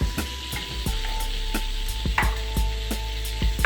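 Garlic hitting a hot pan for sweet and spicy Brussels sprouts sends up a steady close sizzle, with a few sharp clicks and taps of a utensil against the pan riding over the frying hiss.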